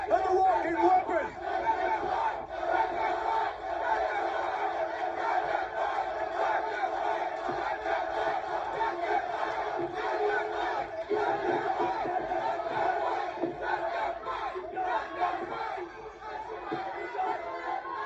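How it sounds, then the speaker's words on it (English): A pro wrestling arena crowd roars and chants energetically during a confrontation, a dense sustained wall of voices with bursts of shouting, heard from a distance and steady throughout. "Crowd is energetic for Charlie Haas."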